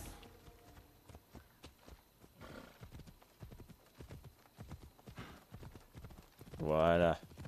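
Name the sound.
horse Phobos galloping, video game Assassin's Creed Odyssey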